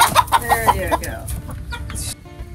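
Chickens cluck in a backyard coop converted from a shed, a rapid run of sharp clucks up close at first, then softer scattered calls over a low rumble.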